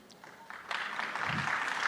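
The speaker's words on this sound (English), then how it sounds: "Why are you applauding him?" A crowd at a Lagos State electricity policy presentation starts applauding. It begins faint and scattered, then swells into steady clapping from across the room.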